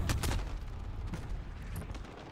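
Explosions and gunfire from a Modern Warfare team deathmatch on the Shipment map, a dense flurry of sharp bursts and booms at the start that thins into scattered blasts.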